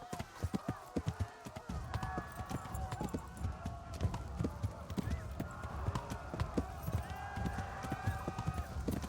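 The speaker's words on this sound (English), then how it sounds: "Go to the horse." Hoofbeats of a horse galloping in the medieval video game Kingdom Come: Deliverance, a fast, steady clip-clop rhythm running the length of the clip, with a brief whinny-like cry and a voice talking over it.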